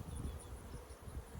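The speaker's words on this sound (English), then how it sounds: "I feel like the bees are about to find their way into my" Bees buzz around a beekeeper working open hives while adding supers, a faint, steady insect drone with low rustling close by.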